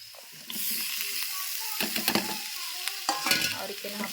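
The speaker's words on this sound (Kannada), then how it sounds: "ಈಗ ಎಣ್ಣೆ ಒಳಗೆ ಖಾರ ಉಪ್ಪು ಎಲ್ಲ ಒಂದು ಸ್ವಲ್ಪ ಫ್ರೈ ಆದಮೇಲೆ" Hot oil sizzles steadily as chili powder, salt and spices fry for a vegetable curry, with a few scraping, clattering stirring sounds from a utensil in the pan.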